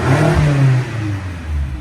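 Catless 570hp 2015 BMW X5 M V8 revving loud and close, a deep throaty roar rising and holding with a rumbling low drone, no voices.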